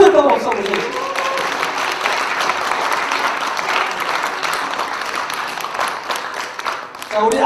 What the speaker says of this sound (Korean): 수고했다고 박수 한번 주세요.